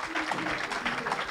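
Congregation applauding and cheering in praise to God at a French-language church service, a dense steady wash of clapping and voices with a louder swell at the end.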